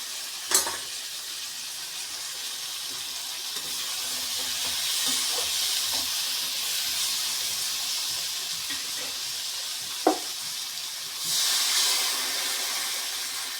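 Water hits a hot pan of potato and pumpkin curry with a sharp clack and bursts into a loud steaming sizzle that hisses on steadily, with another clatter near the end and a fresh surge of hissing, no talk.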